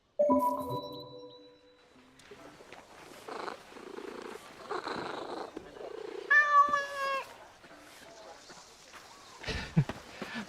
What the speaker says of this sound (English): The game lets me pet cats.